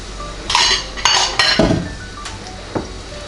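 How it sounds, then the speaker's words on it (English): A utensil scrapes and clinks against a bowl while beaten egg whites are folded into pecan pie filling, a few separate knocks and scrapes spaced out over a few seconds, close by. "Now I'm going to take my beaten egg whites and fold those in."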